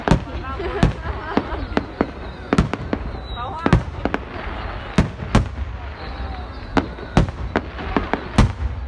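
Fireworks going off in a rapid continuous barrage, sharp loud bangs at irregular close intervals over a rumbling background, with a crowd and voices audible beneath.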